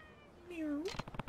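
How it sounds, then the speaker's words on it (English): A black cat in the video game Yakuza 3 gives a single drawn-out meow, clear and fairly close, followed by a few short soft sounds. "A black cat."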